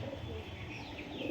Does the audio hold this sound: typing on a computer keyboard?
no